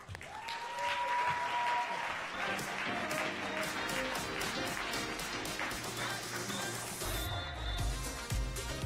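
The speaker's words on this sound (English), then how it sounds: "So let's please give them a round of applause." Audience applause in a seminar room at a financial education session, a sustained crowd clapping mixed with music and a shifting background, continuing for several seconds.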